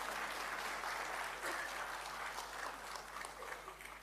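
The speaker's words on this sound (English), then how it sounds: "A big round of applause for all of them." Sustained applause from a crowd at a graduation ceremony, steady and dense clapping filling the whole stretch with no voices standing out.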